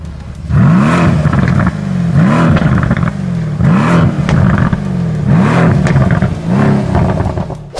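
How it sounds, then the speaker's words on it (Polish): Mercedes-AMG engine revving hard, a loud, close run of repeated rising blips, about five in a row, each surging and dropping back in a steady rhythm. "AMG brzmi groźnie i muskularnie"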